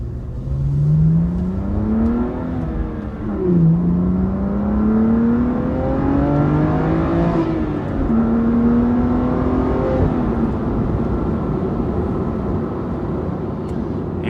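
A BMW M2 Competition with a Carbahn Stage 2 piggyback tune revs with its exhaust valves open, the loud engine note climbing through repeated pulls and shifts, heard close and continuous throughout.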